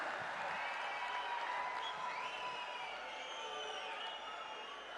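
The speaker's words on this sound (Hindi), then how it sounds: "जोरदार तालियों से स्वागत आदरणीय प्रधानमंत्री जी का।" A large crowd at a rally in Jammu applauds steadily at a distance, welcoming Prime Minister Narendra Modi, a continuous wash of clapping with faint cheers.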